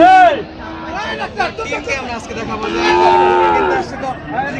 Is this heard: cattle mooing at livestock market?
yes